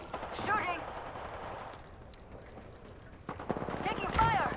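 Bursts of gunfire in an online shooter game, rapid cracks under ongoing crowd-like game noise, with a voice speaking at the start and end.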